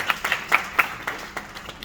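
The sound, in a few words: audience applause at a poetry gathering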